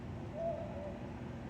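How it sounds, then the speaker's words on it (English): A single owl hoot rises faintly out of steady night-time background noise, one soft drawn-out call heard in the distance with no voices. "That's an owl."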